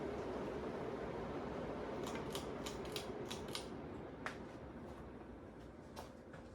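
A Ju-Feng SC-B148 ceiling fan winds down with a steady whirring hum, while a series of light mechanical ticks and clicks sound close by over the droning motor.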